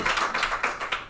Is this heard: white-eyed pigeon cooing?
no